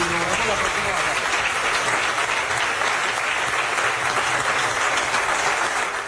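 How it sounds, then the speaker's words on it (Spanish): A crowd of PDVSA oil workers applauds at a closing event, a loud, continuous wash of many hands clapping that holds steady for several seconds, with voices mixed in. "un aplauso para todos"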